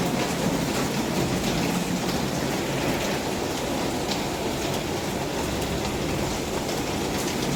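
Night rain falls steadily onto a grapevine overhead and the ground beneath, a dense even hiss of drops that continues without pause.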